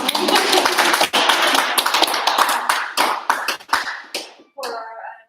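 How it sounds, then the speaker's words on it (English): A small audience at a student presentation session claps steadily for several seconds, then the applause thins to scattered claps, and a voice speaks briefly at the end. "Give an applause for yourself."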